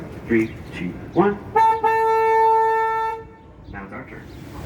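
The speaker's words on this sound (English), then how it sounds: "I'm going to honk the boat's horn for safety" A boat's horn sounds once, a loud steady tonal blast lasting a bit over a second, with a person counting down just before it and speaking briefly afterward.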